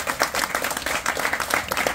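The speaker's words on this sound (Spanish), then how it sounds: "Fuerte el aplauso para todos ustedes." Applause from an audience at an outdoor community event in Atlatlahucan for a new park and multi-use court, with dense overlapping claps that stay steady and fairly loud throughout.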